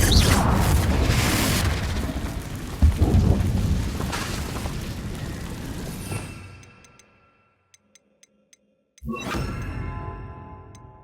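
A Confringo blasting spell explodes in the video game Hogwarts Legacy, a loud booming burst with rumbling that fades to near silence over about six seconds, a few faint clicks, then another sharp impact near the end.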